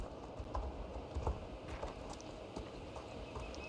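Horse hooves clip-clop in the online horse-riding game Star Stable Online as a jumping horse moves over its course, a steady, moderately quiet patter of hoofbeats with a few stronger thuds and no talk.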